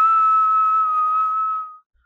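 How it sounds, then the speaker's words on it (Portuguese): A single steady whistled note held for almost two seconds, clear and close, then stopping abruptly, with no talking. "Tente assoviar agora"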